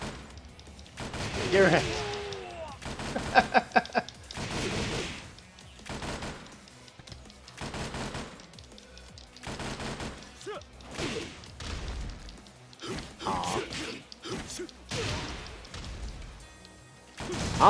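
Scattered volleys of gunfire crack through a Tekken 7 cutscene, arriving as repeated sharp bursts and thuds spread across the scene, with a brief spoken line in between.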